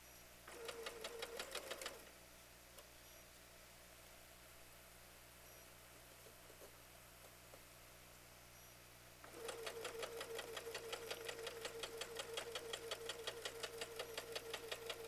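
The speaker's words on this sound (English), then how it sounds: "Now we're going to come back and sew this corner" A sewing machine stitches a corner seam in two fast bursts of rapid mechanical chatter, close and clear. A quiet pause with faint handling noise separates the bursts, and no one speaks.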